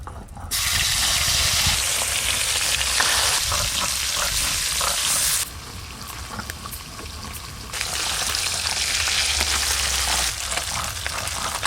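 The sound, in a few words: puti fish frying in oil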